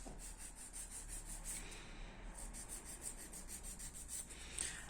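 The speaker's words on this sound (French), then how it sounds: "On lime de chaque côté les parallèles." A nail file rasps back and forth along the contour of a resin nail extension. The strokes are quick, even and faint but close, with no talk over them.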